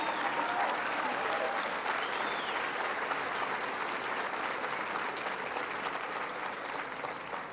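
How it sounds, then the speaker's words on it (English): Steady, dense applause from a large crowd at a political speech in Iowa fills the whole stretch, loud and sustained without pause, with faint voices mixed into the clapping. "Would you all mind giving a big round of applause"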